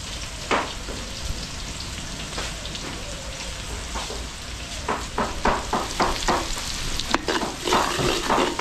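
Pork belly sautéing with onion and garlic in a pan, a steady sizzle broken by repeated scraping stir strokes that come faster and louder toward the end, heard close with no talking.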